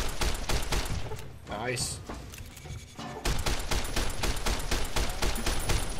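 Heavy gunfire in hardcore modded Fallout: New Vegas, repeated rapid shots in dense bursts with a short lull in the middle, loud and close, while someone speaks briefly over it.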